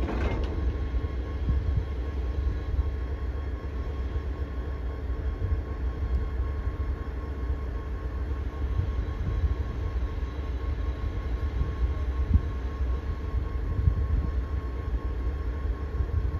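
A CSX freight train locomotive rumbles steadily past on a siding, with a continuous low roar and faint metallic clatter, constant in loudness throughout.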